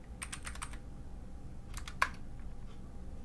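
Python code typed on a computer keyboard, two quick bursts of close, crisp keystrokes separated by a pause, with one sharper clack, otherwise quiet.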